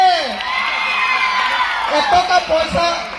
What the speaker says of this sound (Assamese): আচুৰ্যদাৰ বাবে এটা ডাঙৰ হাত চাপৰি